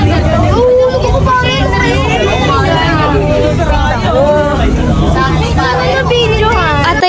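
Continuous chatter from several people fills the inside of a moving minibus, with a low engine and road rumble underneath.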